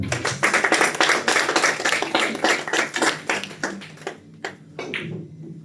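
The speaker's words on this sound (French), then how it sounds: "Nos applaudissements pour Mustafa Shelam." A small audience claps at a player introduction before a quarter-final match, with distinct, fairly sparse hand claps that are loud at first, then thin out and fade into scattered final claps.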